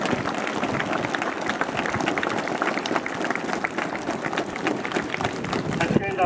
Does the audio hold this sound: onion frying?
no